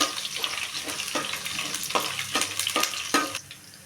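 Crushed garlic frying in a hot pan while cooking pudina masala mandakki, a steady sizzle with repeated sharp scraping stirs against the pan, close and loud with no talking.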